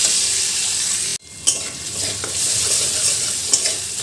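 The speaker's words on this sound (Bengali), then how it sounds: "গোবিন্দভোগ চালটা ভেজে নেব, দিয়ে দিলাম গোবিন্দভোগ চালটা, ভেজে নেব একটু ভালো করে।" Gobindobhog rice frying in a pan, a loud close sizzle that cuts out briefly, then resumes with spatula scraping and stirring.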